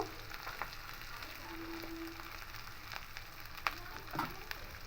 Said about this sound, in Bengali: দিয়ে খুব ভালো করে একটু কষে নেবো